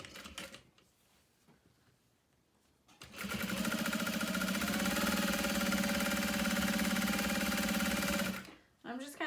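A sewing machine stitches leather bag handles, starting after a quiet pause and running steadily at a fast, even hum with rapid needle clatter for about five seconds before stopping.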